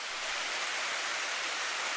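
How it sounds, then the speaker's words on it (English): A smooth waterfall pours steadily into a deep pool, making a broad, continuous rushing hiss that stays even and fairly soft throughout, with no voices. "flowing down a wonderful smooth waterfall that goes way up"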